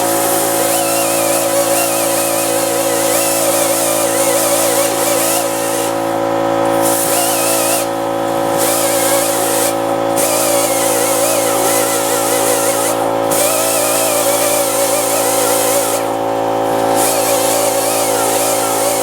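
Die grinder running off an AC Delco air compressor scrubs a valve cover, giving a steady high hiss and whine that cuts out briefly several times as the trigger is released, loud and close with no talk.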